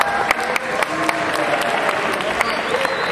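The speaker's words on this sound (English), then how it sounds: "Let's give another round of applause to the 2009" A high school forum audience applauds a student delegate candidate: dense, continuous clapping from a crowd, fairly loud and even throughout.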